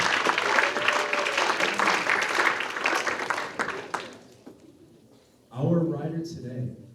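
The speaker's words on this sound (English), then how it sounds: "So give yourselves a round of applause." An audience at a writers' week event claps loudly for about four seconds, the applause fading out before a speaker's voice begins near the end.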